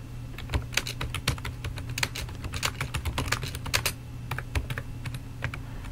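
Fast, steady typing on a computer keyboard while entering personal details into an online form, crisp close key clicks in uneven bursts over a faint hum.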